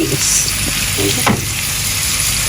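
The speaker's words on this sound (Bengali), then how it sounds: "পেঁয়াজ বাজা হইতে আছে" Onions sizzle steadily in a hot pan, a close and continuous frying hiss with faint stirring clicks and no talk.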